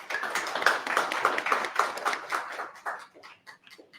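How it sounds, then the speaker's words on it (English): Applause for speakers at a business talk event on email list growth, a scattered patter of clapping from a modest audience that thins out and fades toward the end. "Let's have a big round of applause for Andy and Dream Bank"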